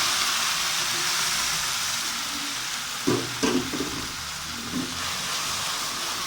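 Steady loud sizzling of hot oil tempering with cumin, briefly disrupted by a splash and stirring as lentils are added to the pan.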